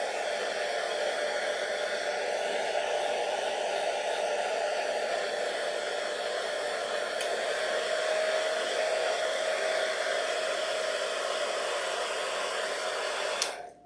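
A blow dryer runs continuously and close by, drying napkin decoupage on a pumpkin, a steady loud airy whoosh with a faint whine that cuts off abruptly at the end.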